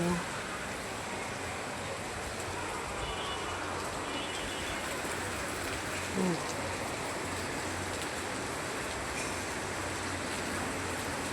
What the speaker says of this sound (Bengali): রিমঝিম বৃষ্টির মাঝে